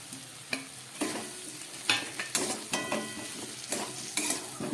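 Fried potato and taro chunks tossed and stirred in a pan of spiced masala for Bengali kochur dom, with repeated scraping strokes of a spatula over a constant sizzle, close and moderately loud.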